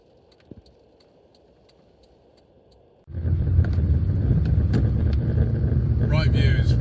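A 1995 Fiat Cinquecento SX starts driving on the road, its engine rumbling loud and close after a quiet interior stretch with a few ticks, the droning steady to the end.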